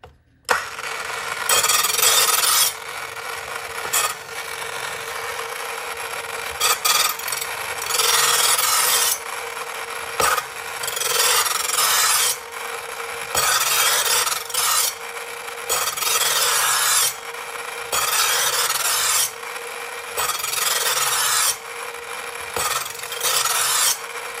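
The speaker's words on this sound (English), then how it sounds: "I might as well do this while this kitchen sharpener's out." An Oneida carving knife drawn repeatedly through a kitchen sharpener gives loud rasping strokes in regular bursts separated by short pauses, about a dozen passes, with no talk.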